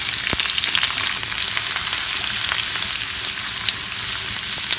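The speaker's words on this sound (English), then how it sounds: "we are going to fry the onions till it is nice and crisp brown" Onions frying in about three tablespoons of oil in a kadai for chicken biryani, a steady, dense sizzle with crackling pops running evenly throughout, close and fairly loud, with no talking.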